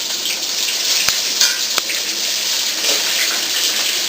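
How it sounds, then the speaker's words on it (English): Water being poured into a cooking pot in a home kitchen, a steady hissing splash running throughout, close and fairly loud, with a couple of sharp clinks. "Put a little water in here."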